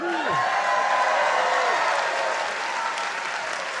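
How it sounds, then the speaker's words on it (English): Applause and cheering from a commencement ceremony crowd, steady and loud throughout, with a few voices whooping at the start. "Yeah, we can cheer."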